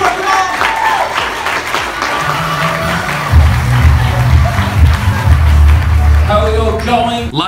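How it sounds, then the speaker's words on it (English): A comedy club crowd applauds and cheers as a comedian is welcomed to the stage, a loud, busy roar of clapping and voices, with deep thumping music rising underneath halfway through. "Let's give him a round of applause"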